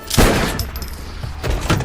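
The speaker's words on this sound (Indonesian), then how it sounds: "Tak lama ada suara tembakan." Loud gunshots ring out, a couple of sharp blasts with booming echoes, close and forceful.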